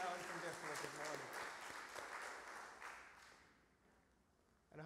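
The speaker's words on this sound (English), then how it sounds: "Let's give Josh a round of applause" Church congregation applauding during a Sunday morning traditional service, a broad wash of clapping that gradually fades out over several seconds, with some voice-like tones mixed in at the start.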